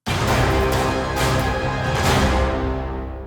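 A dense orchestral swell with deep sustained horns rings out loud and full, broad brass chords carrying under the rest of the ensemble.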